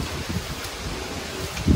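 Wind blows through leaves in a brief, soft rustle that swells slightly at the end.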